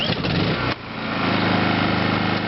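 A Honda portable inverter generator running steadily after a brief start-up burst, its engine hum and buzzy drone sustained and fairly loud, with no one talking.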